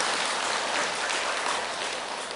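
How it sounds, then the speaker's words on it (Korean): An audience of listeners at a Buddhist monk's Diamond Sutra lecture bursts into a dense, loud wash of hand clapping that holds steady and then starts to fade. "박수 한번 쳐보세요."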